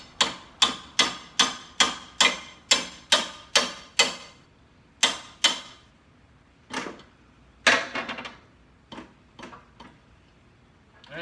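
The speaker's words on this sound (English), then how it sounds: "just tap it with a hammer" A hammer taps a Copperhead mulching mower blade in a quick, even series of sharp metal strikes, then pauses and hits a few more irregular, lighter blows.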